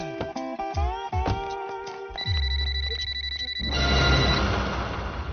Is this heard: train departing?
no